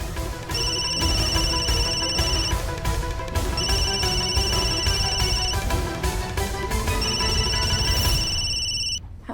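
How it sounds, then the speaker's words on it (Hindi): A telephone rings in three repeated electronic bursts of trilling tones, loud and steady over background music in a Hindi TV drama scene, with no one speaking during the ringing. "कली जी फोन उठा रहे हैं हम"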